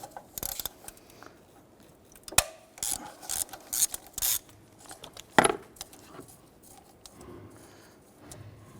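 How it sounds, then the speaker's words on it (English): A ratchet with a 13mm socket loosens a nut while a MAP sensor is removed from a 1999-2004 Jeep Grand Cherokee, giving close bursts of quick metallic clicks in the middle of a quiet work space. "We're going to remove this nut here using our 13mm socket."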